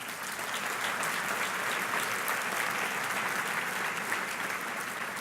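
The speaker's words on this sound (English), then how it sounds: "Please give them a round of applause." Audience applause at a luncheon session of the 2017 Mobility 21 Summit, a full room clapping steadily and evenly for several seconds, dense and continuous with no voices over it.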